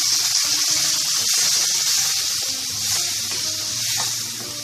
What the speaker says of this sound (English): Now as the spices are nicely cooked into the oil, now we are going to add in water.